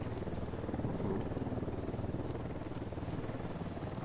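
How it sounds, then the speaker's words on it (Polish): A helicopter in Ghost Recon: Wildlands passes overhead, a steady low rotor thrum with a pulsing rhythm that holds for several seconds at a fairly even level. "Helikopter."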